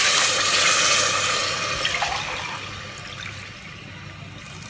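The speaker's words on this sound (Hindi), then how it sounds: "3 गिलास हम पानी के ऐड करेंगे" A glass of water poured into a pot of beef yakhni pulao: a loud rushing splash for about two seconds that fades into softer trickling, with no talk.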